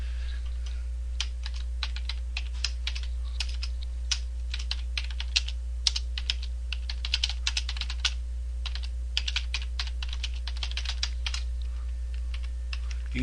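Someone types on a computer keyboard in uneven bursts of close, crisp key clicks, pausing now and then, over a steady low electrical hum.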